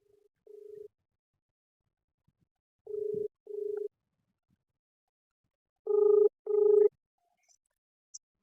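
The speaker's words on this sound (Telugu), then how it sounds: "ఓసారి ఫోన్ చేసి మాట్లాడే ప్రయత్నం చేద్దాం" A telephone ringback tone sounds while a call is being placed, giving short paired electronic beeps separated by silent gaps, clear and close with no talking.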